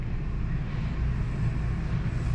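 An electric awning on a 2021 Jayco Eagle 332CBOK camper retracts with a steady, low mechanical drone, motor hum mixed with a breathy wash of wind on the microphone, constant and unbroken throughout.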